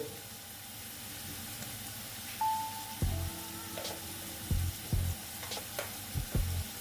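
Potato pieces fry with a little ground cumin in a home kitchen pan, a soft steady sizzle broken by several sharp clinks and scrapes of a spoon against the pan.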